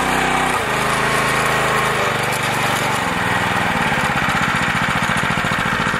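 A pool fire pump's small gasoline engine idles steadily nearby, a loud, continuous mechanical drone with a rapid, even firing rhythm that shifts slightly in pitch partway through, heard alone with no voices.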